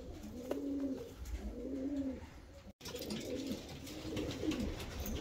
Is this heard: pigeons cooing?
yes